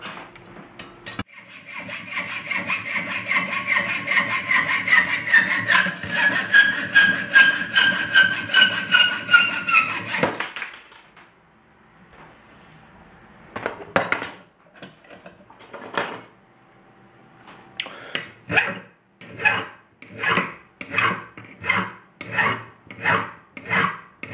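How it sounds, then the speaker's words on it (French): A hacksaw rasps rhythmically through a metal key in quick back-and-forth strokes, pausing, then resuming with slower, distinct strokes. "on va utiliser simplement une scie à métaux ou bien une disqueuse éventuellement, et on va donc procéder à la découpe"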